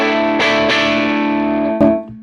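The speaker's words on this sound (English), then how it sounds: "Here's a clean tone." Clean electric guitar tone from an IK Multimedia Tonex One, a few strummed chords ringing out loud and close with a sustained decay, no talking.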